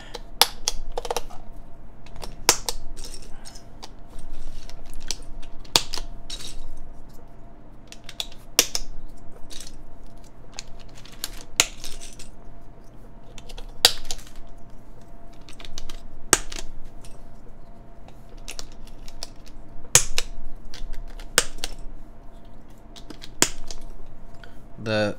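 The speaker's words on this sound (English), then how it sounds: "So let's put keycaps back on." Keycaps being pressed onto a Topre keyboard, with sharp isolated snapping clicks spaced a few seconds apart over a quiet room background, close and distinct, occasional softer handling noises between.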